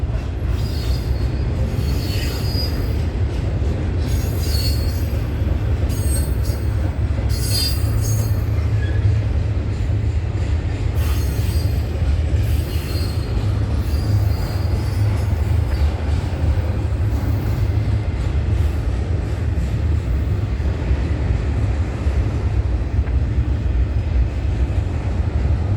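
At night a CN freight train rolls steadily past close by, a continuous loud rumble of wagons with repeated high wheel squeals rising over it throughout.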